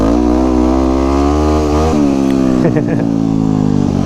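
A supermoto race bike engine out on a flat track, a loud close steady drone that shifts pitch partway through as the throttle changes, with wind noise and a rider's voice over it.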